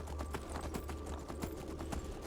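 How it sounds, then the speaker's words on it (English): Horses' hooves clip-clop at a steady, moderate pace in a video game, a regular run of sharp hoof strikes with a low rumble beneath, fairly close and alone. "Horses are moving at a decent pace"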